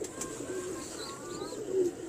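Fancy zeera pigeons coo softly and repeatedly at close range, low murmuring calls over a faint background hum, with no talk.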